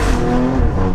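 Alfa Romeo Stelvio Quadrifoglio SUV engine while driving with the windows open, a loud, steady engine rumble with a rising tone, continuous throughout and close.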